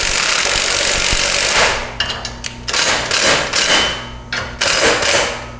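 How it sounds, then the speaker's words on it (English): An impact wrench with a 17 mm socket runs down mounting bolts on a Honda Pioneer 1000-3 side-by-side. A loud steady noise gives way to several short, hammering bursts of the wrench with brief gaps between them. "I'll take our 17 mil socket and impact, and we'll run those down, just not so loose"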